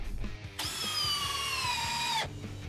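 A power drill drives an SDWC truss screw into a wooden top plate, a loud, high whine lasting under two seconds at close range, with faint clicks before and after.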